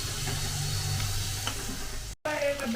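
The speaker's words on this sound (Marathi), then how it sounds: "तर बघू शकता तळत आलेले आहेत" Potato spring rolls fry in shallow hot oil with a dense, close crackling sizzle, broken by a brief silent gap before the frying resumes.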